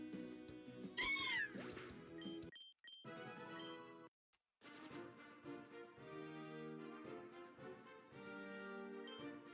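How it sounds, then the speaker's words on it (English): A cat-like Pokémon cry from the Pokémon Z video game rises in a wavering meow over steady game music, with brief gaps in the background track. "Oh, it's Kitty!"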